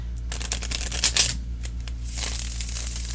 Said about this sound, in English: I'm going to do three more shuffles because we want a thorough mix.